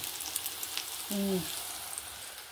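Cabbage pakoda batter fries in hot oil with a soft, steady sizzle and crackle, quiet and close, with a brief low tonal sound partway through.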